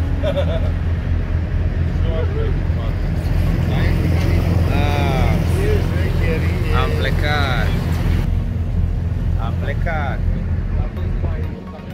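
A fishing boat's engine drones steadily as it sets off to sea from Brighton, loud and constant under heavy wind buffeting, with people talking over it.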